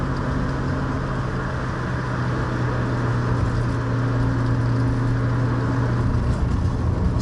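A 1966 Ford Mustang cruises at about 40 mph, its steady engine and road drone carrying a faint rear-end whine on deceleration, heard from inside the car.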